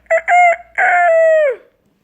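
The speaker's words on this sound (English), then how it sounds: "Every day I crow, cock-a-doodle-doo." A rooster crows on a farm, opening with two short clipped notes and then a long drawn-out call that trails off, loud and close with no other sound around it.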